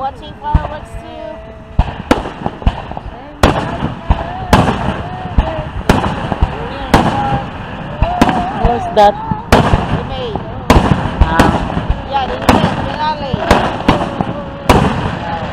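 Hometown fireworks display at night, with repeated loud bursts and crackling pops going off every second or two, while people nearby talk briefly.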